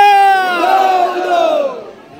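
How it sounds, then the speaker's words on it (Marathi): Devotees at the Ekvira Devi temple raise a loud, sustained collective cheer, a chorus of many voices chanting and shouting together close by, swelling then fading over about two seconds. "जोरदार जल्लोष झालेला आहे."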